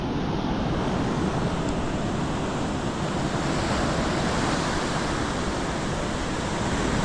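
Ocean waves wash onto a foggy, overcast beach at high tide just before sunrise, a steady broadband roar of surf with light wind, continuous and unbroken, with no voices.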